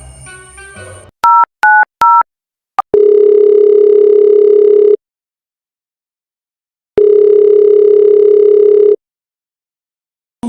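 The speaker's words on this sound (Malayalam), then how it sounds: "ഓനെ വിളിച്ചു നോക്കുന്നത്, ഓനെ എടുക്കുന്നില്ല ഫോണ്" A phone call goes out: a few quick keypad tones, then two long loud ringback tones with a pause between, ringing on with no answer, close and clear with no voices.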